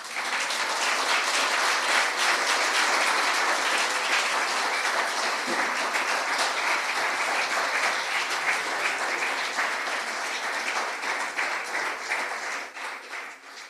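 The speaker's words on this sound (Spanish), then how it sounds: "Le damos un aplauso al Señor" A large crowd at a church service applauds continuously, a dense wash of clapping that holds steady before gradually fading toward the end.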